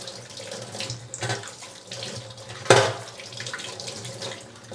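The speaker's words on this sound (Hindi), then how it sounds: "इतनी सब्जियां धो लेती हूँ, मैंने सोचा एक काम और निपट जाएगा।" Tap water runs steadily into a kitchen sink while vegetables are washed, a continuous splashing rush with one brief louder splash partway through.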